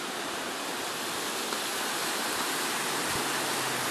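Steady, full rush of the Housatonic River tumbling over rocks in pocket water, a dense continuous roar that holds even and close throughout with no voices.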